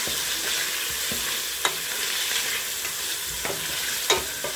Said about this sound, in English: Spread it around and then mix it.